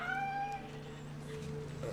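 A cat meows in a drawn-out, tonal call that fades off, heard alone and fairly faint against a low steady background hum.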